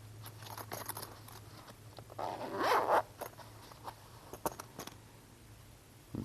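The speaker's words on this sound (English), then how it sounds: "And it comes in this nice little zippered case here." A zipper on a padded, soft felt-lined knife case is pulled open in one close, quiet rasping run, surrounded by faint handling clicks and rustles of the case.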